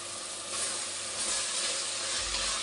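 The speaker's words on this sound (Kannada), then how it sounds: "ಇದೆಲ್ಲ ಚೆನ್ನಾಗಿ ಫ್ರೈ ಆಗಬೇಕು." Mint and spices fry in a pan with a steady soft sizzle and hiss, a constant broadband crackle that holds even and uninterrupted.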